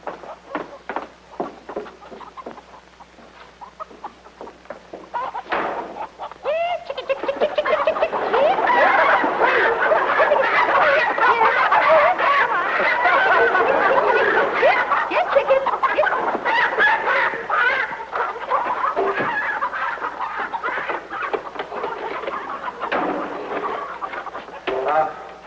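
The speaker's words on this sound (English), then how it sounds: "This way to the chicken coop." Chickens cluck close by in a chicken coop, a busy, continuous chorus of clucks and squawks that swells after a quieter start. Scattered talk is heard early on.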